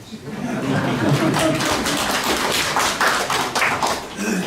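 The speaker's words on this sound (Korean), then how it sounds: "박수 좀 쳐주세요" Audience clapping at a town hall meeting between residents and the county governor in Galsan-myeon, a dense, steady patter of many hands that carries on for several seconds.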